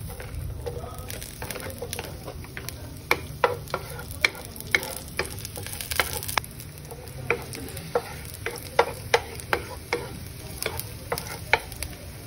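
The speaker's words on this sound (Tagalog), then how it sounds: "saute the garlic." Garlic sautés in a hot pan, a steady close sizzle broken by frequent sharp clicks and scrapes of stirring, with a faint low hum underneath and no talking.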